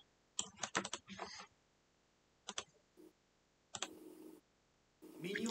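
Fingers type on a non-mechanical computer keyboard during a League of Legends session, with quiet, close clicks arriving in short bursts separated by pauses.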